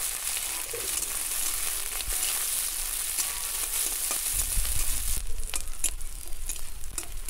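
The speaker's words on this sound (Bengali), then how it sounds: "এখানে পেঁয়াজ লঙ্কা ভালো করে ভেজে নিয়েছি" Sliced onions and green chillies fry in a pan, giving a continuous close crackling sizzle with stirring scrapes that grows busier and louder toward the end, with no voices.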